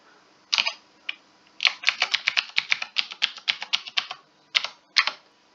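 Login details are typed on a computer keyboard in quick, uneven bursts of close, crisp key clicks, with short pauses between runs of keystrokes.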